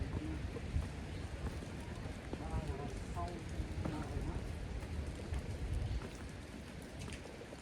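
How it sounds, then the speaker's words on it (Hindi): Steady broadband rushing of flowing water on the way to Krangsuri waterfall, a dense continuous wash with wind buffeting the microphone and faint voices underneath. "साउंड तो सुन सकते हैं गाइस, पानी का साउंड भी है।"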